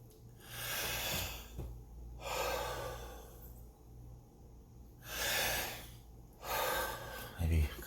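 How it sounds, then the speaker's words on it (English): A man takes several deep breaths, heavy inhales and exhales coming in three or four separate bursts with quiet gaps between them. "Let me take a couple deep breaths."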